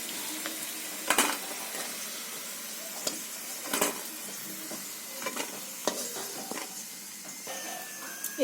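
Lentil dumplings (bori) fry in a pan of oil with a soft, steady sizzle, broken by sharp clinks and scrapes of a utensil stirring against the pan.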